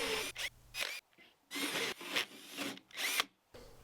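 Hole saw cutting through a new door for a knob, with gummed teeth burning the wood: close grinding, rasping bursts that stop and restart several times.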